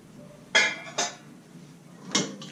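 Metal pans are handled in the lower basket of a dishwasher, giving three sharp clattering knocks against a quiet background, each short and fairly close.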